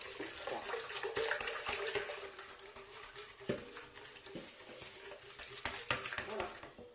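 Cold milk is poured into a bowl of flour and baking powder for pancake batter, giving a steady liquid splashing and trickling stream with faint scraping clinks throughout, close and moderately quiet.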